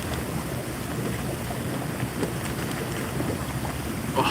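Hot tub bubble jets run steadily, a dense continuous rush of churning water and air that stays at an even, fairly loud level throughout with no pauses or voices.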